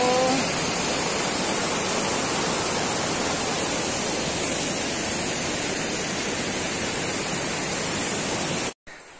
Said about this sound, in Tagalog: Malayo siya pero napakaganda yung kanyang waterfalls.